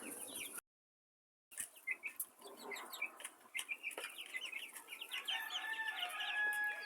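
Chickens cluck and chatter nearby, with overlapping calls from several birds; a brief silent gap near the start, then steady clucking continues.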